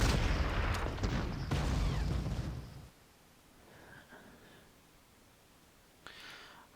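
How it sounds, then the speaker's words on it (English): Artillery bombardment in the Panzer Corps war game: loud, dense booming blasts for about three seconds, then quieter rumbling with a faint later thud. "some bombardment can't be helped"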